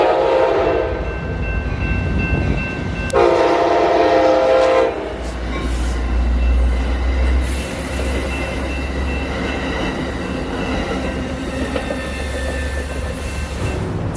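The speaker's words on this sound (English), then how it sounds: "there is a train scheduled to pass through soon" A train passes close by in the Bay Area, sounding a loud horn in two long blasts before its rumbling, clattering cars roll on steadily at length.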